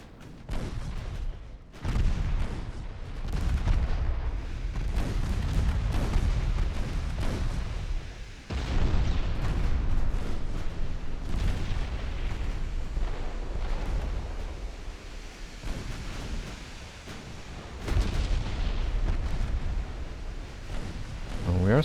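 Battleship guns fire during a Germany-versus-Britain pre-dreadnought naval battle in the Ultimate Admiral game. Heavy booming salvos hit repeatedly and lay a deep, continuous rumble that swells and fades over the whole stretch.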